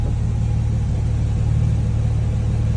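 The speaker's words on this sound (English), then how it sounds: "Let's fire it up, warm it up, and see how we look." A Porsche 997.2 Turbo S engine idles just after being fired up for an oil change, a loud, steady, deep rumble that holds an even pitch throughout with no voices over it.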